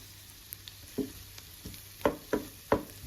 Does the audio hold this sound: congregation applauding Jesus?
no